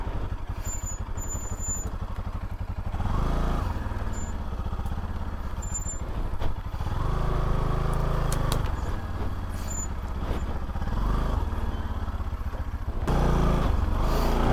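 A motorcycle engine drones steadily while riding on a mountain route with off-road stretches, its low rumble rising and falling in a few surges; no one speaks.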